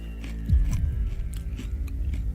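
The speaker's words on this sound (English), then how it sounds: "you're eating chips blindfolded in a studio" Close, loud crunching and chewing of Smith's cheddar-flavoured potato chips eaten in a studio, a steady run of crisp bites and mouth noises without speech.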